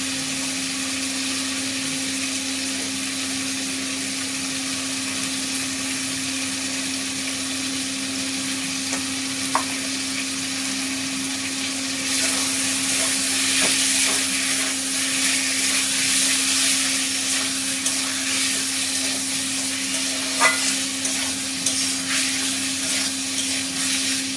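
New potatoes and peas sauté in a pan with a steady frying hiss under a constant kitchen hum, occasional clinks of stirring, and the sizzle growing louder midway.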